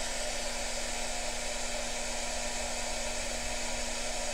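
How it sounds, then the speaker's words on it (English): Steady, loud whooshing of a hair dryer running continuously with a constant motor hum. "if you hear the wind noise. That's the hairdryer"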